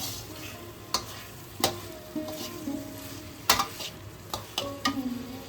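Potatoes fry and are stirred with spice paste in a pan for an aloo potol dalna, with a steady sizzle broken by repeated clacks and scrapes of the spoon, close and fairly loud, no talking.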